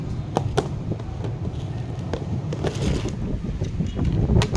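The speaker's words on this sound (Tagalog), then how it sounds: "Lakas ng hangin" Steady roaring wind buffets the microphone, a constant broadband rush with a few sharp knocks and gusts swelling toward the end.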